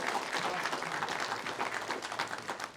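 Audience members at a global leadership summit and awards event keep up applause for an introduced guest. The clapping is crowd-wide but faint and somewhat distant, a continuous patter without cheers.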